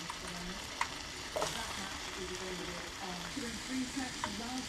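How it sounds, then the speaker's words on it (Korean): Bacon sizzles and crackles quietly in a frying pan, a soft continuous hiss with small pops, alongside faint clinks of utensils. "지글지글 익는 느낌이야"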